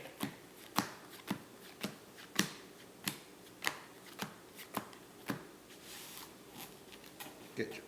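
Playing cards are riffled and bridged repeatedly, a dozen crisp snapping bursts at a steady pace, close and fairly quiet.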